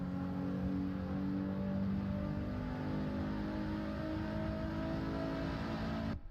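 Race car engine in the Assetto Corsa sim, a steady, fairly quiet droning hum with little change in pitch that cuts off abruptly at the end.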